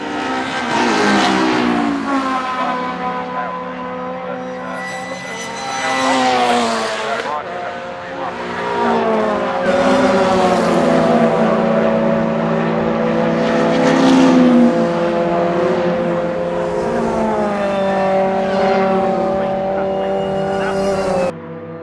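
Race cars at a circuit during a bank holiday racing day, including a Mini Cooper, roar loudly and continuously, their engines rising and falling in pitch as they rev and pass close by.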